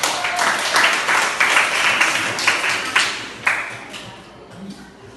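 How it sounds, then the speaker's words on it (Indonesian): Students in a classroom clapping together, a burst of fairly close applause that swells with scattered claps and fades over a few seconds. "Tepuk tangan."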